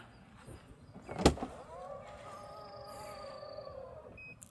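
A sharp click, then a steady electric motor whine as a Tesla Model 3 or Model Y door powers itself shut, ending with a couple of short high beeps.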